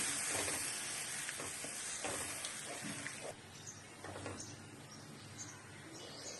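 Warm water simmering and bubbling in a pan of fried potatoes and spices for a fish curry, a soft steady sizzle with faint clinks and scrapes, moderately quiet, no voices.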